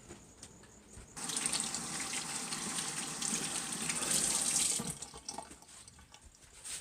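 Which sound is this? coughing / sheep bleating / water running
water running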